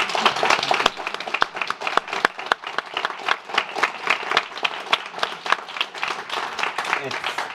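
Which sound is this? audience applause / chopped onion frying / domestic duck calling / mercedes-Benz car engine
audience applause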